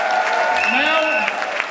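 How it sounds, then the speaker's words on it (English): Steady applause from a crowd at a Democratic Convention rally fills the whole moment, with a voice speaking over the clapping. "Let's give one more round of applause for all of them."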